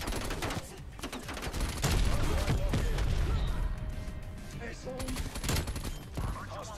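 An aircraft strafe run rains gunfire in a Call of Duty multiplayer match: dense, continuous rapid shots and impacts rattle throughout, mixed with other game sounds.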